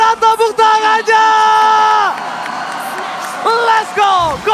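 Mobile Legends grand final crowd at the ONIC vs GEEK match, loud whoops and cheers with strong sustained shouted tones that break off and then flare up again near the end.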